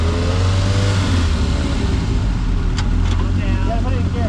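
A sand car engine on the dunes at Glamis revs hard at full throttle, a loud and continuous roar that holds steady for several seconds, close up and filling the whole clip.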